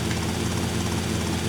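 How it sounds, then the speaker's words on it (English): A helicopter in GTA Vice City Definitive Edition on PC flies with a steady, loud rotor and engine drone, even and unbroken, with no talk over it. "this guy's just such a twitchy helicopter. It's touchy."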